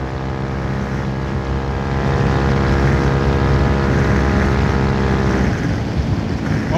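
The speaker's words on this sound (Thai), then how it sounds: "รถเดิมๆกับท่อโล่งๆนะครับบอกเลยไม่ได้แรง ขี่เอาดังอย่างเดียว" A Honda Forza 350 scooter with a loud open exhaust rides along, giving a steady droning engine tone that swells slightly and carries rushing wind noise, loud and continuous with no voices.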